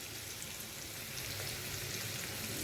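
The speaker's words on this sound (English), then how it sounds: "Now I've added the paneer to the pan. Now start frying this." Steady, close sizzling of paneer shallow frying in hot oil in a pan, a continuous crackling hiss with no voices.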